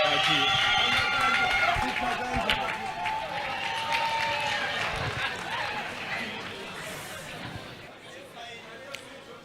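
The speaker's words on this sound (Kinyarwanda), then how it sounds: "Amashyi menshi cyane tubakire." An audience applauds and cheers in welcome for Doctor Nsabii and Killaman. Loud clapping and crowd noise start strong and slowly fade, and a person talks over it.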